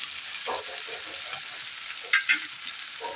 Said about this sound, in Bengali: এবারে মশলাটা সুন্দরভাবে কষাবো মশলাটা খুব ভালোভাবে কষানো হোক